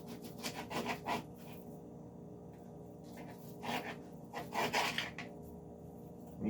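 A knife saws through raw beef for slow cooker stew, producing faint, close rubbing strokes in uneven clusters separated by quiet pauses.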